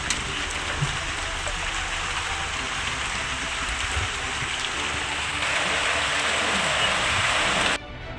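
Heavy monsoon rain pours steadily and loud, a dense continuous hiss of drops on surfaces with no voices, swelling slightly near the end before cutting off abruptly.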